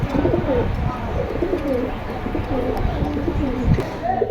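Several pigeons cooing in soft, repeated rolling phrases at close range, steady throughout against a busy background of other birds, with no talk.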